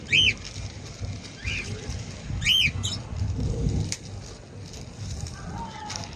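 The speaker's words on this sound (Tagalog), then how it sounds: "Ito namang ibon natin, kanina pa to tahimik, ngayon nagingay." Short bird calls from a male bird ring out a few times in bursts, fairly close, over a busy background of low rumble and outdoor noise.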